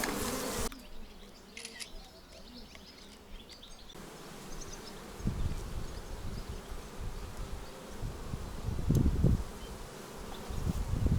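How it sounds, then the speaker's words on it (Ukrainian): A dense, steady buzzing of many honeybees in packages fills the scene, with louder bursts rising toward the end as the swarm grows more active. "дуже багато бджоли у цих пакетах"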